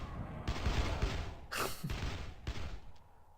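Gunfire in the block-building shooter CastleMiner Z comes as a quick burst of close, loud shots in uneven rapid succession, with a sharp higher crack in the middle, and no talking over it.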